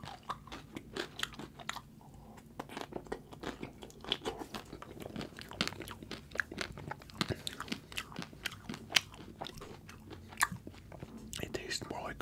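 Kit Kat ice cream bars and Drumstick ice cream cones being bitten and chewed up close, with repeated crunchy bites and wet mouth sounds running steadily throughout, under occasional soft talk.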